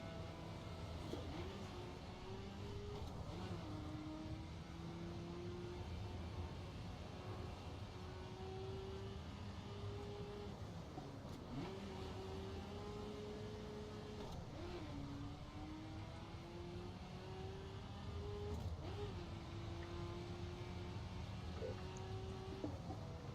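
A very fast car in The Crew racing game drives hard through corners, its engine holding a loud, steady, continuous drone that dips and rises with gear changes and throttle shifts.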